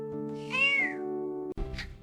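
A cat gives a clear, drawn-out meow close by, followed by a short thump and a second brief, rising meow.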